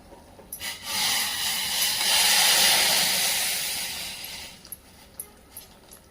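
Hot water poured into a frying onion-tomato masala for dhaba-style kadhai paneer bursts into a loud, steamy hiss that swells for a few seconds, then dies back down. No one speaks.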